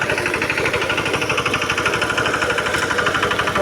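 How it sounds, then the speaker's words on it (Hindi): A VST Shakti 130 DI power tiller engine chugs while puddling a rain-soaked paddy field, a loud, close, rapid rhythmic diesel knocking that holds steady throughout with no talking. "और ये चल रहा है अपना ट्रैक्टर।"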